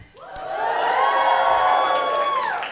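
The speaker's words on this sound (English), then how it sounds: "you guys should really not cheer until I finish that" A comedy club audience at a New York stand-up special erupts into loud cheering and whooping, a sustained swell of voices that rises quickly and holds for a couple of seconds before easing off.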